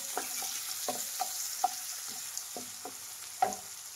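Chopped onions and green chillies frying in a pan with a steady sizzle, punctuated by several distinct spatula scrapes and stirs at irregular intervals, close and fairly quiet, with no talking.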